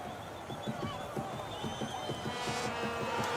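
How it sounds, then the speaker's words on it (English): A crowd cheers at a marble race championship, a steady roaring wash of many voices with rhythmic clapping or stamping pulses running through it, swelling slightly toward the end. "The crowd is going wild with joy"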